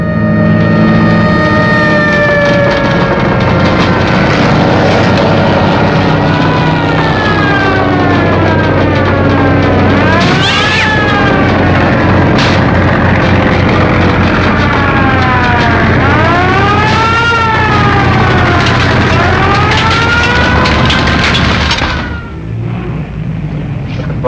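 Fire engine sirens from a firehouse down the street, loud and continuous with repeated rising and falling wails over a steady engine drone, fading near the end.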